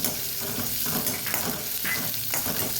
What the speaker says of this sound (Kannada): ಇದನ್ನು ಚೆನ್ನಾಗಿ ಬಾಡಿಸಿಕೊಳ್ಳೋಣ ಈರುಳ್ಳಿಯನ್ನು ಹದಾ ಉರಿಯಲ್ಲಿ.